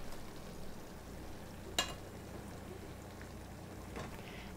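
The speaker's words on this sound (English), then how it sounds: "So now that the mixture is boiling, I'm going to add my candy thermometer to the pot." A sugar candy mixture boils in a pot on the stove, giving a faint, steady bubbling simmer with one brief sharp tap partway through.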